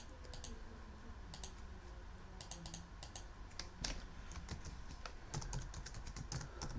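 Quiet, steady clicking of keys on a computer keyboard, a run of irregular taps with short pauses, faint against a low background hum and with no voices.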